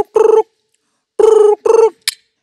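A voice mimics a telephone ringing, giving three short warbling rings with pauses between them and ending on a brief high chirp. Nothing else is heard and nobody speaks.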